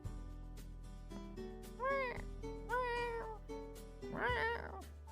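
A human voice imitates a cat with three drawn-out, rising-and-falling meows, close and clear over a steady low background hum.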